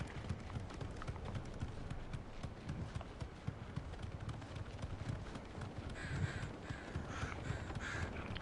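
A bird caws repeatedly in a video game over a busy background of running hoofbeats and game noise, with harsh calls clustering toward the end and no clear talking.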